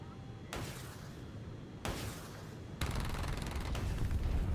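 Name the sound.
missile launch in War Thunder video game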